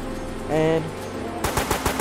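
In a Roblox shooter game, a burst of rapid gunfire rings out near the end as several sharp shots in quick succession, following a short tonal game sound.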